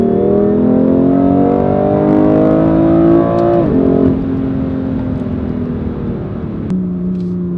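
A deep, loud BMW M2 Competition engine drones steadily at close range, its pitch dipping once as it shifts, then holding a throaty rumble.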